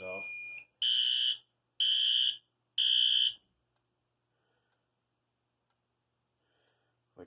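A System Sensor i3 smoke detector sounds four loud, shrill, evenly spaced alarm beeps, then cuts to near silence.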